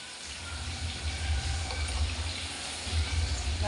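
Water pours steadily into a cooking pot in a continuous close gush with a low rumble, uninterrupted and without talk.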